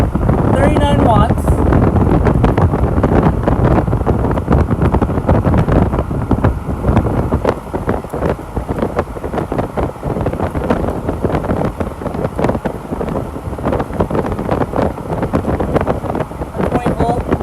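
A Super Air Screw pedestal fan motor drawing 5.5 amps runs strong with a loud, broad rushing airflow that buffets close to the microphone, steady throughout, with a person talking over it.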